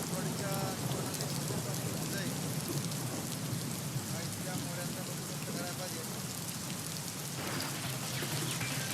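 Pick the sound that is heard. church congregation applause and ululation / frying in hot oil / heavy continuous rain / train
heavy continuous rain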